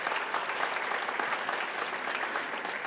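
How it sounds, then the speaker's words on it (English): An audience at a school awards event in a performing arts center gives a big round of applause, dense and continuous, steady throughout with slight swells. "Let's give the Performing Arts Center Fairview staff a big round of applause of thanks."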